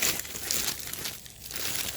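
Plastic bags from a delivery of crystals crinkle and crumple continuously as they are unpacked, close and fairly loud, with no talking.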